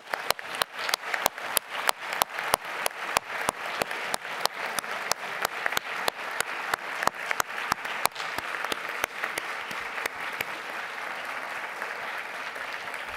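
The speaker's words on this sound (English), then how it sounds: "a big round of applause to all the colleagues" Conference closing applause from participants, with steady, sustained clapping and a few sharp, evenly spaced claps standing out near the microphone, gradually thinning toward the end.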